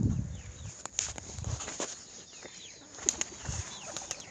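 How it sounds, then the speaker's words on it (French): Two pigeons on a rooftop give short bursts of wing flapping, a few soft flutters close by against quiet outdoor background with faint bird calls. "Et voilà, les deux pigeons."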